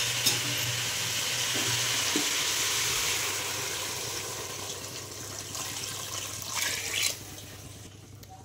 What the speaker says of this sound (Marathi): भाजी छान परतून झाली की आता त्यामध्ये आता आपण पाणी टाकून घेऊ